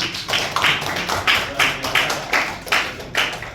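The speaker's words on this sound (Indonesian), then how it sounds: "Boleh tepuk tangan dulu dong" A coaching session audience claps on request at an education supervision training, a steady run of close, crisp hand claps in an even rhythm lasting the whole stretch, without talk.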